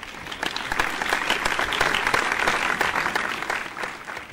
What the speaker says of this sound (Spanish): Para su sustenta un fuerte aplauso otra vez.